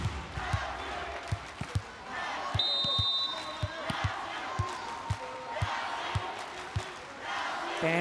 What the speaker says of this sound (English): Fans in the arena cheering Brazil.